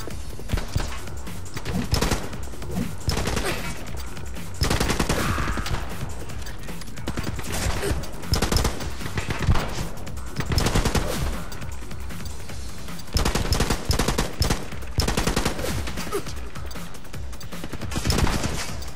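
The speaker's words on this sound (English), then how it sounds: "Where the hell did that gunfire come from?" Repeated loud volleys of gunfire from The Club video game ring out close in bursts, with dense shooting separated by brief lulls throughout.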